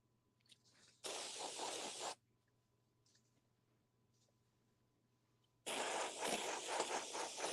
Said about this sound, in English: just get some canned air and just start spraying it in here